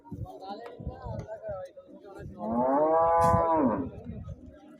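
A cow lets out a long, loud moo nearby, with people talking around it at the busy weekly livestock market in Husnabad.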